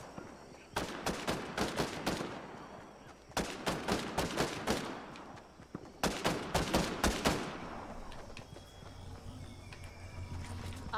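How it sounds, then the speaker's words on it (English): Three rapid bursts of gunfire crack out in quick succession in Fortnite, each a cluster of sharp shots, followed by quieter game ambience. "I can hear gunshots on my right"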